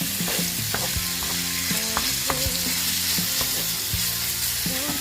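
Pork chop chunks fry in a pan with translucent onion, a steady close sizzle and hiss running throughout, with clinks and scrapes of stirring and occasional tonal clatter layered over the frying noise.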